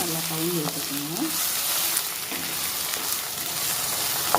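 Gongura paste with tempering sizzles steadily in a pan while being stirred, an even hiss under a few soft scraping and clinking touches, with a brief voice-like hum at the start.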